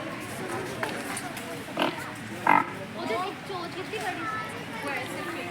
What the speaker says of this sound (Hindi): और साथियों ये है यहाँ पे हिप्पो,